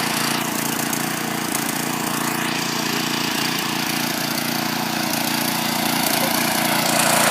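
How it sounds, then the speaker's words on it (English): A small gasoline engine on gardening equipment runs loud and steady at full throttle nearby, a continuous droning hum with no pull-start audible and no voices. "to get it started, you're going to turn the choke off. And throttle about halfway and pull it. Throttle the rest of the way up. Full throttle."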